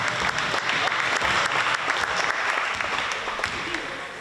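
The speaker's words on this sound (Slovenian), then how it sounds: "en aplavz vsem sodelujočim" A room full of people clapping at a children's basketball event in Slovenska Bistrica, Slovenia, dense and steady applause that fades slightly toward the end.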